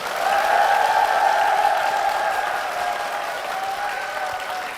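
Sustained applause and cheering from a church congregation at Gwangju Sarang Church, a dense steady wash of clapping with crowd voices, loud and even throughout before slowly easing.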